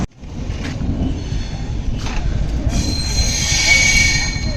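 The Darjeeling Mail passes close by a rail gate, a loud rumbling roll of wheels on track building into a high metallic squeal of the wheels.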